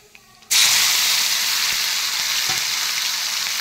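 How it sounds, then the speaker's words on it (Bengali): Tomatoes and green chillies, with a pinch of black cumin, drop into hot oil left from frying pabda fish, bursting into a sudden loud sizzle that holds steady with a few light stirring knocks. "তারপর দিয়ে দেবো টমেটো আর কাঁচা লঙ্কা।"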